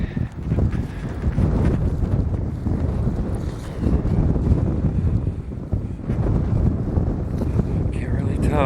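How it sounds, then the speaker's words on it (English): Strong wind blows across an open field beside a cemetery in Port Stanley, Ontario. It makes a continuous loud rumbling buffet against the microphone with a few gusty surges, and a person talks now and then. "That wind's coming right across that field"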